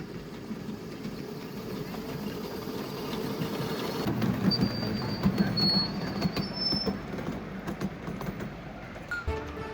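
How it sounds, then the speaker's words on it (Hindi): A vintage miniature railway train at Nurragingy in Sydney draws closer with rumbling, clattering wheels and thin metallic squeals, growing louder midway, as voices murmur nearby. "You have a train coming up behind you."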